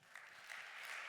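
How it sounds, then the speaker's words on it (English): Audience applause at a panel event on participatory, climate-focused city design, a broad steady wash of clapping from a crowd that swells slightly toward the end. "A huge round of applause."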